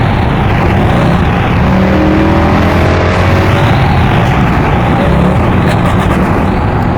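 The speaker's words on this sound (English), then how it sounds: "the exhaust did used to pop and bang on Sport Plus, but very little, just on downshifts" A Mercedes C63 AMG W204 V8 in Sport Plus mode roars loudly and steadily while driven hard through bends, with a few brief exhaust pops near the end during downshifts.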